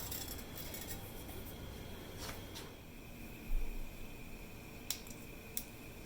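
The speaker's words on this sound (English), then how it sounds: "putting a pinchful of mustard seeds in and waiting for them to pop" Sparse, sharp little pops of mustard seeds crackle over a faint, steady sizzle of hot oil in a pan, a handful of them scattered over several seconds.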